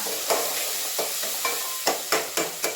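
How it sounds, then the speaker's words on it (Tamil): Onions sizzle and fry in a pan for a Tamil-style chicken kulambu, with a steady frying hiss under a series of sharp scraping stirs near the microphone. "வெங்காயம் நல்லா வதக்கிட்டா"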